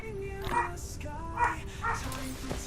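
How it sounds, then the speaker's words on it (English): Several dogs barking indoors, sharp yaps and barks in a loose irregular rhythm at moderate distance, with a few whimpering tones between them and no talk over them. "Please pardon the barky dogs."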